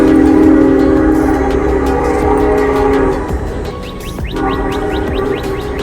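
A train rumbles past close by, a steady low roar with wheel clatter, easing slightly partway through before continuing; no voices.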